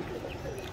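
A pet pigeon gives a soft, low, brief coo, faint and close, heard alone.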